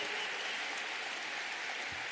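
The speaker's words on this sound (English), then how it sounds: "Let's give them a round of applause for making this event possible." A round of applause for the staff at a county chairs' brunch: a soft, hissing wash of many hands clapping, steady and fairly distant, with no voices over it.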